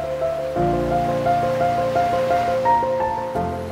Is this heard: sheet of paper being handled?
no